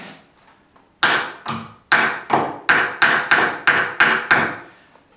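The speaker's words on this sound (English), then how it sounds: "I'm going to knock, obviously, that wedge up" A hammer knocks a wooden wedge into the corner of a canvas stretcher bar, giving about eight sharp, close wooden raps in an even rhythm after a few faint taps.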